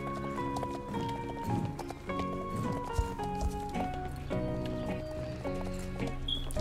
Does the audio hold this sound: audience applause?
no